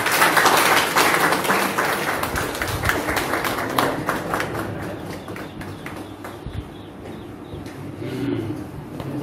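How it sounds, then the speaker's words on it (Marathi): Loud, sustained applause from an audience at a state-level youth Marathi literary conference in Akola, steady clapping that fades slightly, with a murmur of voices underneath. "जोरदार टाळ्या वाजवून"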